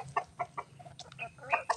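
Chickens cluck in short, quick bursts at feeding time, close by and fairly quiet, with a low hum underneath.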